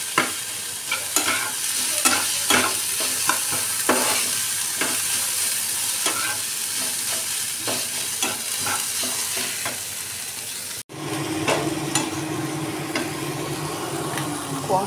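Pizza topping is sautéed in a pan with a loud, close sizzle and repeated scraping stir strokes in a regular rhythm, then a brief cut before the frying hiss carries on more evenly.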